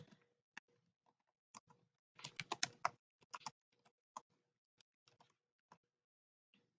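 Keystrokes on a computer keyboard, close and quiet in an otherwise silent room, coming as scattered single taps with a quick flurry of typing in the middle.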